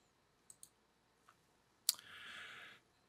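Several soft computer mouse clicks, a quick pair and then single taps, sound in a quiet room while drive configuration software is used, followed by a brief faint whir.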